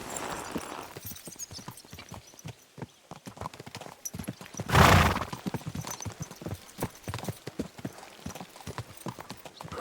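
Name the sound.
horses' hooves as the party rides out, from video game Kingdom Come: Deliverance II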